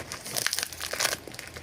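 Close, quiet crinkling and crackling of plastic packaging being handled and opened during a PSP restoration, in irregular rapid bursts with no talking.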